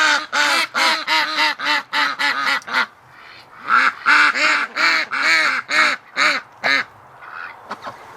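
Several female ducks quack loudly and close by in rapid, repeated runs of nasal calls, with a brief lull in the middle before the chorus resumes.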